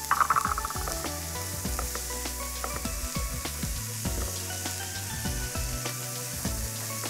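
Tomatoes and capsicum sauté in a pan, giving a constant close sizzle broken by clinks and scrapes of stirring.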